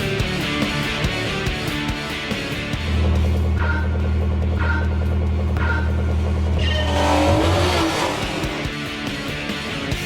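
A racing car in Gran Turismo 4 roars through a turn, its engine droning steadily, then easing off and rising again as tyres squeal, loud and continuous with no talk.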